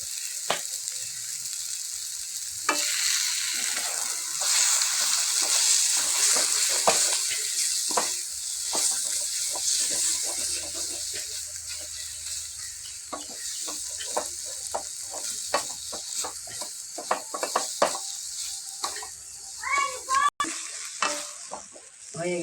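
Kochu shak (taro leaf greens) sizzling and frying in a pan with butter while being stirred, a steady close crackle broken by repeated scraping strokes of the spoon throughout, with no talking.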